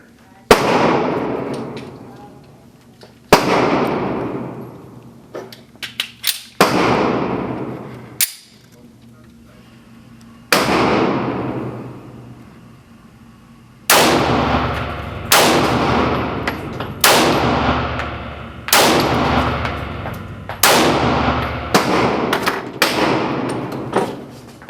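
Ruger SR9C pistol fired repeatedly at close range, loud sharp reports arriving singly and in quick pairs with ringing decay between shots.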